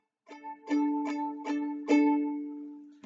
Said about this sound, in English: So he'll play, it would be a D5, and it would sort of sound like this.